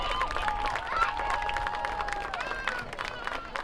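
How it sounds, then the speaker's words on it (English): A gym crowd claps and cheers for a third grade volleyball team at a school sports event, a dense, sustained patter of applause with a steady hum of voices beneath. "About a big round of applause for our 3rd grade volleyball team."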